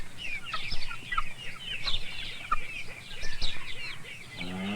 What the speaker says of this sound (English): The ducks and chickens and turkeys wake up first, and their loud voices let me know it's morning